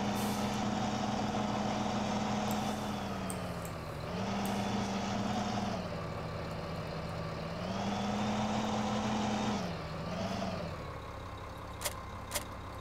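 A two-wheel-drive tractor in Farming Simulator 15 strains with a loud droning engine whose pitch repeatedly dips and recovers under load, steady and close, with a couple of sharp clicks near the end.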